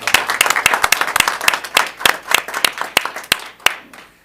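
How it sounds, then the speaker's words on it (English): Audience clapping at a school board meeting, a room of hands producing sharp individual claps over a softer applause bed, thinning out and fading toward the end, with a faint voice underneath. "let's give them a round of applause"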